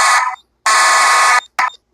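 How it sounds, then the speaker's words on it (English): In a cartoon school, a fire alarm rings loudly in three close electronic bursts: a short one, a long one, then a very brief one. "There's the fire drill. There's the fire alarm and all."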